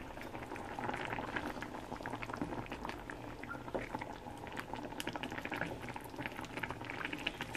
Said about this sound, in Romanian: Să lăsăm să fiarbă un pic.